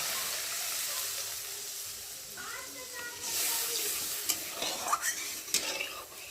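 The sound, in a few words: mustard gravy for pabda fish boiling in pan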